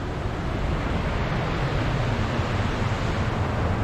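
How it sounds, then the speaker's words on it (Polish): A waterfall in northern Norway, running with little water off the mountains, gives a steady broadband rush with no breaks. "Przepiękny wodospad, na którym zatrzymujemy się co roku."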